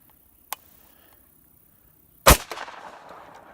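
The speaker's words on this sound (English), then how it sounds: "I'll shoot the top off that one of them trees right there." A semi-automatic rifle fired at a treetop outdoors on rural land. A faint click comes first, then one loud, sharp shot with a lingering rumbling tail.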